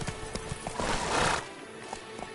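Roach the horse gallops in Cyberpunk 2077, a steady run of hoofbeats with a brief whinny in the middle, fairly close and moderately loud.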